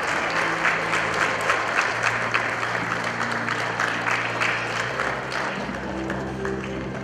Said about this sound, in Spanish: Los aplausos fuertes para ellos, por supuesto.